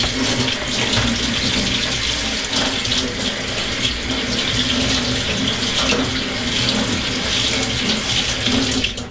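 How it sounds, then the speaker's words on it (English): A big strainer is rinsed under a running tap, with a continuous close splashing stream of water that stays steady from start to finish. "And what I did was just rinse out this big strainer."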